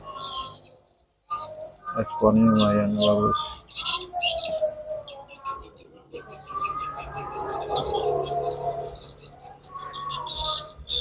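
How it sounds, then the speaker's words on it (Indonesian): Swiftlets arriving at a swiftlet nesting house, their chirps and twittering calls repeating under someone talking over steady background noise. "Udah mulai berdatangan burung."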